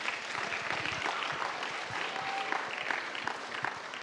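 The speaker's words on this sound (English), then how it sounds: "can we please get a round of applause for the volunteers?" A round of applause fills the hall for the volunteers at the North South Foundation National Finals opening ceremony, steady and fairly soft with no one speaking.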